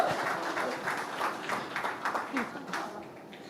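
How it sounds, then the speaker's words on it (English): Audience applause at an awards ceremony for the NDTV Indian of the Year 2025 event, a moderate round of clapping with scattered sharper claps, sounding mid-distance in a large hall and holding steady for a few seconds. "Huge round of applause for Professor Madhvi Lata."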